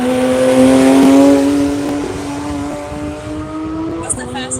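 Porsche GT3 RS race cars accelerate in a racing video game, their engines droning loudly as the revs climb and shift, with a brief squeal near the end and a voice talking over them.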